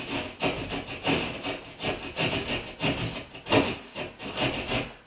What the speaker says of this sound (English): I got my little drywall saw, and I'm not in a race